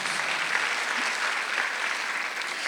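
A church congregation at a Sunday worship service claps steadily and continuously, a dense wash of applause at even volume throughout.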